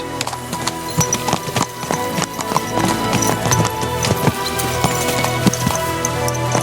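Horse hooves clip-clop in the medieval role-playing game Kingdom Come Deliverance II, a busy run of close, sharp footfalls with an occasional whinny over low ambient sound.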